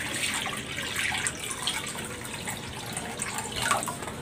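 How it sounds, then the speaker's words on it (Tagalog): Water poured from a container into a cooking pan (kawali) while a fish soup is being made, a steady soft splashing and trickling stream with no talking. "Ayan, maglalagay na ako ng tubig dito sa kawali."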